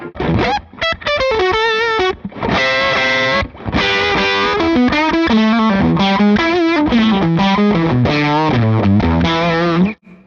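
An electric guitar plays through a Nobels ODR-1 overdrive pedal, loud distorted chords and riffs with sustained notes and short pauses between phrases, no speech over it.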